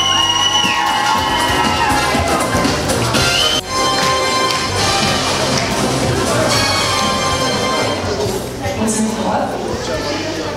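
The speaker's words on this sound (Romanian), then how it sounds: "Haideți să-i primim cu aplauze." Wedding guests in Bălți cheer and clap as a surprise arrives, a dense, loud crowd roar with whoops and voices mixed over music, steady throughout.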